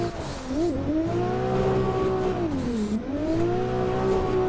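A BMW E36 drift car in the racing game Drift Masters slides around the Irwindale track, its engine droning steadily at high revs with pitch dips and climbs, loud and continuous with faint tire noise.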